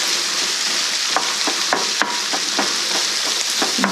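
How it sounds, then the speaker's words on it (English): Homemade sausage browns in a hot pan for stuffed bell peppers, a close, loud, continuous sizzle with scattered crackles and soft stirring clicks. "we'll get that going, get some browning on there"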